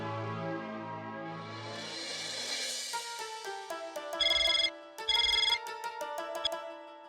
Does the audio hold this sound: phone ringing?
yes